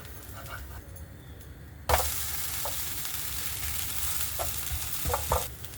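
Millet (kambu) dosa cooks on a hot griddle over high flame as sesame oil or ghee is poured around it, giving a steady broadband sizzle that jumps louder partway through, with a few light scraping clicks; no talking.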